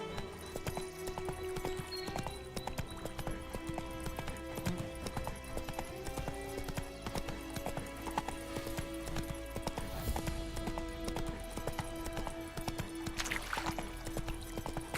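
In The Witcher 3, a horse gallops steadily, its rhythmic clip-clop hoofbeats continuous and close over an ambient game backdrop, with a faint whinny.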